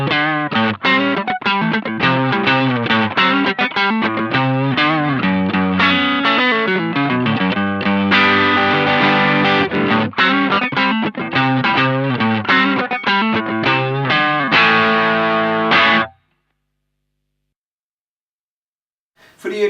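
Electric guitar through an Electro-Harmonix East River Drive overdrive pedal, with a driven tone, plays a busy riff with chords and single notes, loud and continuous, then stops abruptly into silence.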